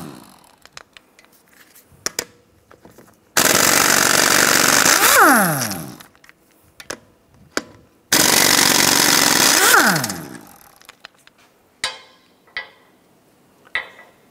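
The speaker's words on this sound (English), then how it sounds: "use a 17 millimeter socket, take the lug nuts off" Impact wrench spinning 17 mm lug bolts off the front wheel of a 2009-2013 BMW 328i xDrive, two long loud whirring bursts rising and falling in pitch, with clanks and quieter tool handling between them.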